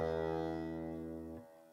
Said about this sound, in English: this is a sitar guitar, that's why it buzzes like crazy